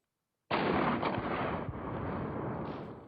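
A sudden loud burst of rapid machine-gun fire from a robotic combat vehicle on a test range erupts after a brief silence, then rolls into a long echoing boom that slowly fades.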